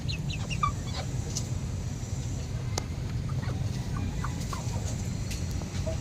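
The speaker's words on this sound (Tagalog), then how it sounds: "Papakita ko na sa inyo yung bagong bili ko na Rhode Island Red" Rhode Island Red chickens, two hens and a rooster, clucking in short scattered calls over a dense, steady outdoor background noise, nothing spoken.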